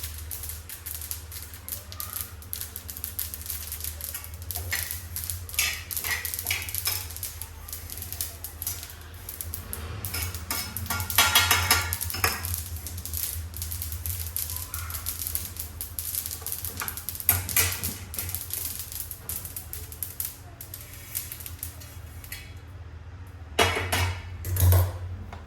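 Sesame and other seeds are stirred and toasted on a hot griddle, giving a continuous dry rustling crackle with scattered clicks and scrapes, alongside a low steady hum.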